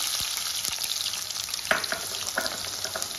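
Cumin seeds fry in a kadhai over a low flame, giving a steady close sizzle and crackle with a few stirring scrapes and no talking.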